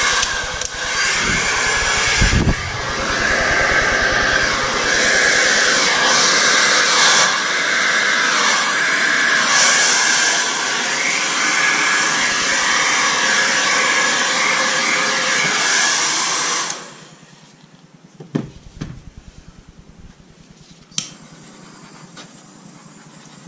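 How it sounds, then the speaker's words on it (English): A hair dryer roars loudly and steadily for about sixteen seconds, then shuts off, leaving quiet with a few faint clicks and puffs. "So I'm going to use the blow dryer"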